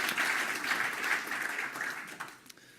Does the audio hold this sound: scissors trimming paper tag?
no